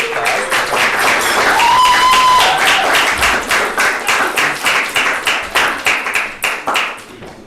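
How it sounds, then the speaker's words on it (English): Audience applause at a twentieth-anniversary celebration in Ireland, starting as a dense, loud wash of clapping with brief vocal sound, then thinning into distinct, rhythmic individual claps that fade toward the end. "We're going to give Bruno a round of applause."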